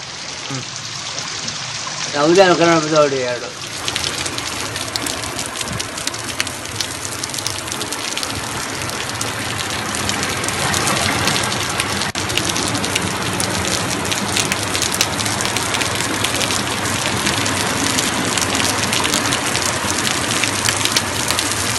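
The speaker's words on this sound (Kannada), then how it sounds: "ಮಹಾರಾಷ್ಟ್ರದ ಘಟ್ಟ ಪ್ರದೇಶದಲ್ಲಿ ಭಾರಿ ಮಳೆಯಾಗ್ತಾ ಇದ್ದು" After a brief voice, heavy rain roars steadily in the ghats of Maharashtra, a dense, loud hiss of drops beating down that continues without pause.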